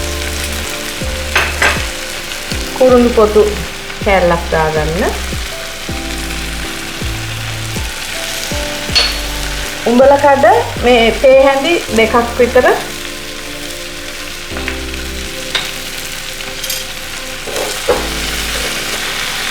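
Cut pineapple pieces frying and sizzling in a pan, seasoned with salt and a piece of cinnamon bark, with a steady close hiss and occasional stirring clatter while someone talks over it.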